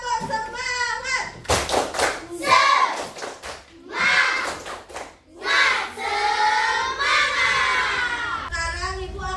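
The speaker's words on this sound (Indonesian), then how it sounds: "Sekali lagi, tepuk semangat." A class of schoolchildren repeats a rhythmic group clapping chant, with sharp patterned claps and thumps mixed with loud shouted chanting voices, close and energetic.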